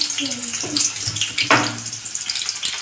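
Cumin and mustard seeds frying in hot oil, a soft crackling sizzle with a few sharper pops, heard close in a home kitchen.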